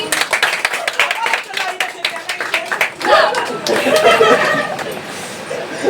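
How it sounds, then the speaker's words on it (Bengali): An audience at a three-year celebration gathering claps, a dense patter of hands mixed with chuckles and chatter that swells louder in the second half. "হাততালি।"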